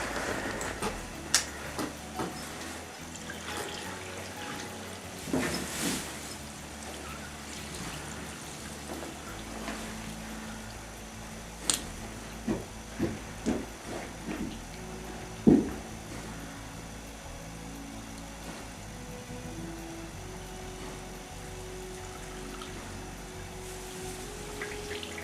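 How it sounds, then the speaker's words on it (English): Heavy gush of birth fluid from a foaling Norwegian Fjord mare, a steady broad watery wash broken by a few sharp knocks and splashes, close and moderately loud. "As you can tell by the sounds, there's a lot of water coming out."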